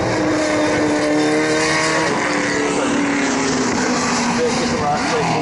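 A muscle car with a 7.5 litre V8 roars down the drag strip at Levels Raceway, a loud continuous engine howl with shifting harmonic tones, under a commentator's voice.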